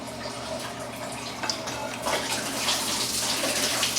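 Coolant draining from a Nissan 3.3L V6 engine into a pail during a timing belt and water pump job, a steady splashing pour of liquid that grows louder and fuller partway through, close by with no talking.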